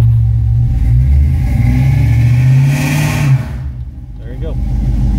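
A 1984 Chevrolet C10 pickup with a swapped LS V8 revs inside a shop, spinning its tires; a loud sustained engine roar with rising pitch, then dropping off sharply to a lower idle rumble, with a voice briefly over the end.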